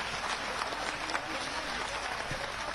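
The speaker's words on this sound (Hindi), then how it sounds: "जोरदार तालियां ठोकेंगे, जोरदार तालियां बजाएंगे" A crowd at a public ceremony in Ujjain gives sustained loud applause for the chief guest, a thick continuous clatter of many hands with a faint voice beneath it.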